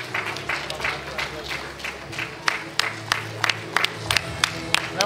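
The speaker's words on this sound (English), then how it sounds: "keep that clapping going." Audience at a school awards ceremony claps, light and scattered at first, then thinning to separate sharp claps from a few hands, with faint murmuring and some voices underneath.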